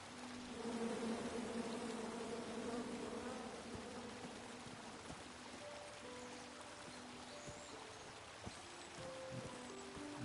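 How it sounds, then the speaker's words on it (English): Bees buzz in the King's Quest video game, a soft continuous droning hum over faint trickling water and light tonal game sounds, no voices. "Come at me, bees!"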